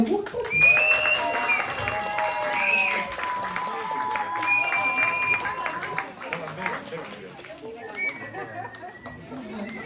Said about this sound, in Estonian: Teeme suure aplausiga Kaidole.